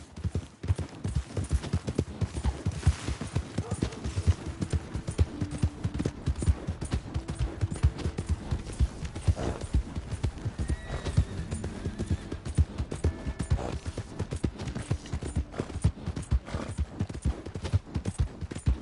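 Rhythmic horse hoofbeats in Red Dead Redemption 2 clatter steadily throughout, loud and close, with a few faint whinnies and snorts mixed in.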